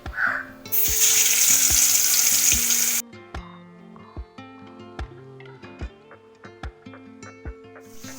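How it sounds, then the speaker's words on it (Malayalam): Mustard seeds dropped into hot oil: a loud burst of spattering sizzle for a couple of seconds, then quieter crackling with repeated sharp popping clicks close by. "ഇപ്പം എണ്ണ ചൂടായി നമ്മൾ കടുക് ഇട്ട് കൊടുത്തു"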